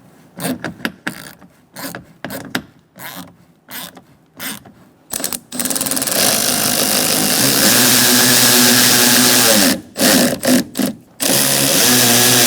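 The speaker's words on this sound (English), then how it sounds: "line it up, and get our bolt started" A power tool drives a bolt into the rear power window regulator and motor assembly of a 2004-2009 Mazda 3, first in short bursts of whirring and ratcheting, then a long continuous run, a brief pause, and more short bursts.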